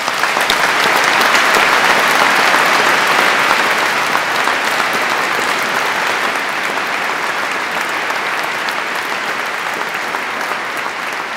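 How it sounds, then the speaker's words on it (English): A large crowd of graduating students and guests at a Durham University congregation ceremony in 2011 gives sustained, dense applause, loud and even for over eleven seconds with only a slight easing toward the end. "So I think a warm round of applause is due to you all."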